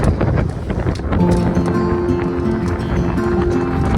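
A strong gust of wind buffets the microphone aboard a sailboat at sea, a loud, continuous roar with rumbling low buffeting throughout.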